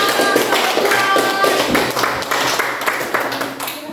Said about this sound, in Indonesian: Iya, kasih tepuk tangan.